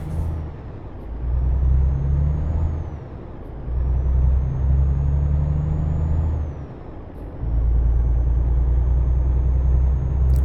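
A heavy truck in Euro Truck Simulator 2 pulls away slowly, its deep engine rumble swelling in three long surges with brief dips between them, loud and close.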